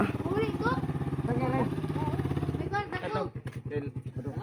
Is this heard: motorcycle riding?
yes